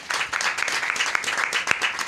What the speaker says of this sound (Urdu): آپ کے خوبصورت کلام کے لیے پہلے تالی ہو جائے گی